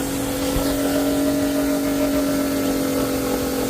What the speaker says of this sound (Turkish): Makinemizi çalıştırıyorum. Bir de boşta alalım.